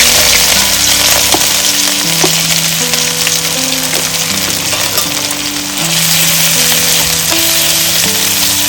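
Onions, chillies, cumin and garlic fry in a pan for a chicken curry, giving a steady loud sizzle throughout with a tonal musical hum layered over it.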